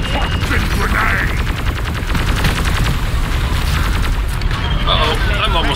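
Repeated booming grenade blasts and gunfire from the video game Deep Rock Galactic, loud and dense in a continuous barrage with no gaps.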